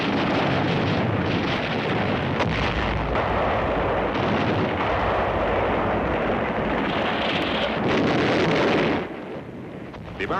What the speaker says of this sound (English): They begin heavy fire against the beachhead.